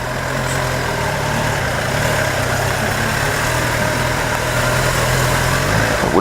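Steady low engine idle from cars and trucks stuck in traffic, heard from a motorcycle filtering between lanes, a continuous close rumble with no speech.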